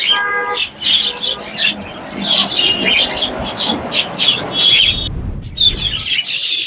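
Lovebirds and other caged birds chirp and squawk at a busy bird market, dense and close with overlapping high tweets and calls that carry on throughout.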